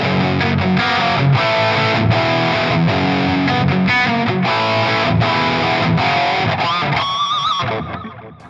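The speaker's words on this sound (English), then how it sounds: "Great rock sound, delay, reverb, it's got everything on there." Electric guitar played through a Valeton GP200 multi-effects unit on a rock preset with delay and reverb, heavily distorted chords ringing out loud and continuous, then trailing off into echoing repeats.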